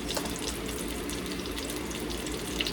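A kitchen tap runs steadily while a home meal is cooked, a continuous close rushing and splashing of water with no talk over it.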